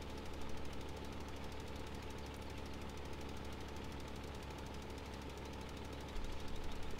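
A tractor engine in Farming Simulator 15 runs steadily while muck spreading, a continuous mid-revving drone with a rough knocking texture that holds level throughout and swells slightly near the end.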